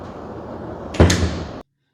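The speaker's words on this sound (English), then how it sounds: "did I close the office door? No, you did not close the office door." An office door swings shut with a sudden solid thud after a brief rustle, then the sound cuts off abruptly into silence.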